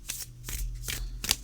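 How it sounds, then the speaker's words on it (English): Matte-finish oracle cards being riffle shuffled, a series of crisp papery riffles and flutters in quick bursts, close and fairly loud, with a sharper clatter near the end. "do them riffle shuffle if you can, and then cut shuffle because they're going to stick together in clumps"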